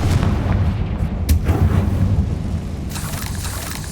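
Confringo fire spell explosion in the Hogwarts Legacy video game, heard as a loud, rumbling boom with sharp bursts over a continuous roar, no talking.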